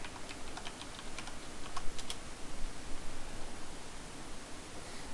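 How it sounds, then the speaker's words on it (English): A few scattered keyboard keystrokes at a computer while logging into a VMware vCenter server, set against a steady background hiss. "Oh, helps if I click on the box to type."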